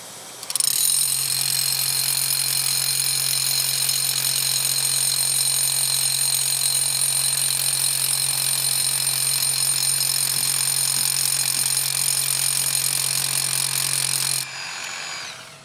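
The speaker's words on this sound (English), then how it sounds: "it sounds like a max hammer, it feels like a max hammer, and it drills like a max hammer" A Bosch cordless SDS-max rotary hammer drills into concrete at a trade show, one loud, continuous hammering drone with a high whine that runs unbroken for about fourteen seconds, then stops abruptly.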